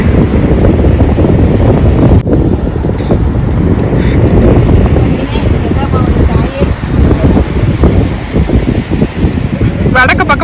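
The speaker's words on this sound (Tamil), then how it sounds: "காத்து வர பயங்கரமா அடிக்குது" Strong wind blows at a beach, roaring and buffeting against the microphone in loud, uneven gusts throughout, with people talking beneath the gusts.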